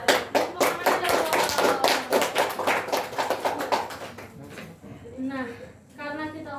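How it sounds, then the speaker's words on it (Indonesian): Students in a classroom clap their hands in applause at a teacher's prompt, a dense patter of claps under overlapping talk that fades after about four seconds, followed by a voice speaking alone. "Tepuk tangan dong."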